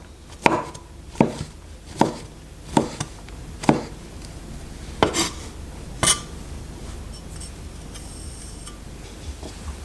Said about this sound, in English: Just keep on chopping and grinding the mushroom.